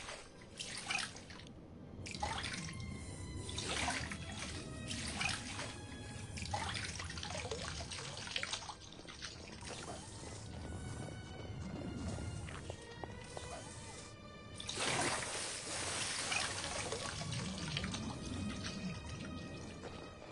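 Water trickles and drips steadily in Outcast: Second Contact, a continuous liquid babble with scattered game effects and brief tonal sounds layered over it.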